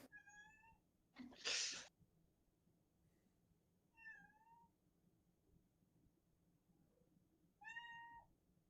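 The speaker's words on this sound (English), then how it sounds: "Yeah, it's my cat." A house cat meows three times in a quiet room, short rising calls spaced a few seconds apart, with a brief sharp rustle or snort between the first and second.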